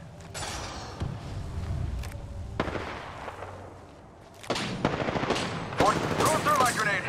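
Gunfire in Apex Legends: rapid automatic bursts and sharp shots crackle in irregular volleys, growing denser and louder toward the end, with a voice calling out in the fight.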